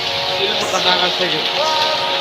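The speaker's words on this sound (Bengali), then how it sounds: "মারাত্মক বৃষ্টি হচ্ছে" Dense, steady night rain hisses across the whole clip, with hail falling and a voice speaking over the downpour.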